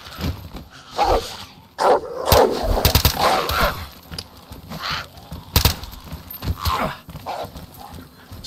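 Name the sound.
dog barking in the video game DayZ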